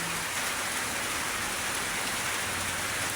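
Heavy rain pours down in a dense, unbroken hiss, a steady close wash of drops drumming on surfaces with no pauses or voices.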